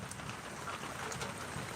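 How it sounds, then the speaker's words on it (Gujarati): Steady rain pours down in a village in Gadhada taluka, Botad district, a dense continuous hiss of drops on surfaces with no voices. "હજે પણ વરસાદ આવી રહ્યો છે"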